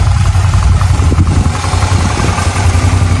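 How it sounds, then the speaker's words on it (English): A Suzuki V-Strom motorcycle engine idling nearby, a loud, steady low rumble with an even chugging pulse and no pauses. "Bike is idling nice."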